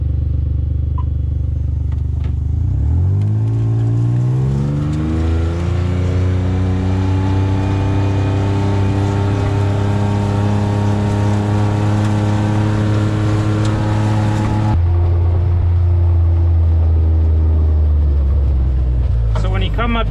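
A John Deere Gator utility vehicle crossing a field while mapping RTK boundaries: its engine rises in a loud drone that holds steady, then drops to a lower idle, with someone talking over it.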